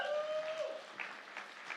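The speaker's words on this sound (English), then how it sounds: "I won't make you keep clapping" An audience at a Halloween event applauds in a short, steady patter of many hands, with a brief tonal sound at the start and no voice over it.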